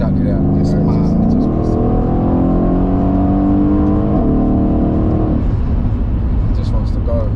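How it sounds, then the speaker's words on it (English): A stage 2 Deutsch Tech tuned Mercedes-AMG E63S pulls hard, its engine note climbing in two long rising sweeps with a gear change between, then dropping off, loud and steady throughout. "A car weighs that much and still shifts that hard."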